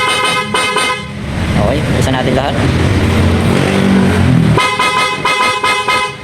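A PIAA horn fitted to a Honda ADV 350 scooter blares in a long loud sustained honk, preceded and followed by shorter toots, with someone talking close by.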